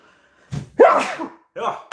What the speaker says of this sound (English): hang on, I sneeze.